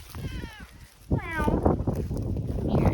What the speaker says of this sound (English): Look at this cute little kitty.